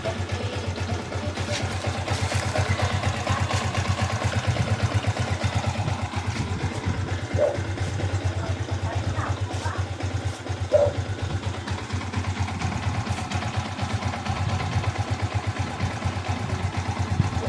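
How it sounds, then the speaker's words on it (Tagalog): Yamaha Sniper 150 idling with a faulty clutch damper, a steady close low engine putter overlaid with a continuous fine rattling clatter, with a few faint knocks and no talking. "pag sa clutch damper ang may depekto, pag piniga mo yung clutch, tapos tumahimik, matic clutch damper yan."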